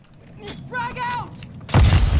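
Grenade explosion in Call of Duty Warzone, a sudden loud, booming broadband blast that follows a brief spoken voice and rumbles on to the end.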